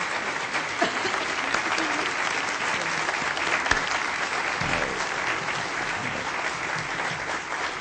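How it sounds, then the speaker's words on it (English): Dense applause from a formal audience at a presidential medal presentation, a continuous wash of many hands clapping at steady volume with a few louder claps standing out. "That applause is for you, not me."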